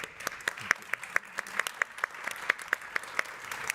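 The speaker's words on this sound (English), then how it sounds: "I'd like to just allow the audience to give you a round of applause" A small audience claps after a sustainability talk: sparse, individual hand claps at a steady, slightly uneven rhythm, fairly quiet and close, with no voices over them.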